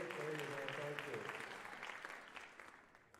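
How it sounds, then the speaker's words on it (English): Applause from a school athletic awards crowd for the principal, a sustained wash of many hands clapping that slowly fades, with a voice speaking over it. "round of applause, let's go"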